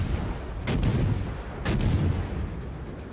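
Two heavy cruiser gun salvos boom in a World of Warships naval battle, each a sharp loud blast with a rumbling tail, about a second apart, with no talk.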